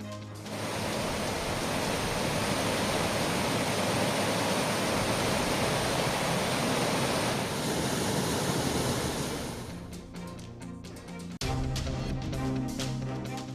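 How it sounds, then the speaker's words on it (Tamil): Floodwater surges through the Vaigai river in Madurai, overflowing its banks on the second day of flooding, heard as a loud, steady roaring rush that gives way to a brief musical sting near the end. "மதுரை வைகை ஆற்றில் இரண்டாவது நாளாக கரை புரண்டோடுகிறது வெள்ளம்."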